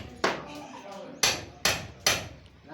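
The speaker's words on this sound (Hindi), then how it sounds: "हम डबल पैप की जगह बनाने के लिए छेनी हथौड़े का इस्तेमाल कर रहे हैं" Hammer on chisel cutting into a wall to recess an electrical panel box: four sharp, loud metallic strikes at irregular spacing, each ringing briefly before fading, with no talking.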